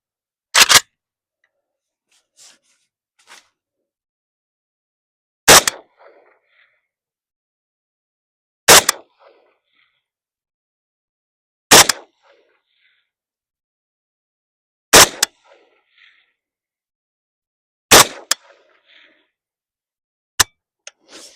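Seven sharp gunshots from a 7.62x39 rifle firing Yugoslavian brass-cased tracer rounds, each a loud close crack with a short tail, spaced about three seconds apart in a quiet outdoor setting.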